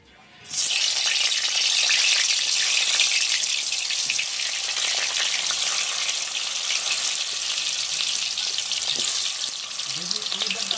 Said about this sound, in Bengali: তেল হয়ে গেছে, আমি এখন এটা কচুটা ভেজে নেব।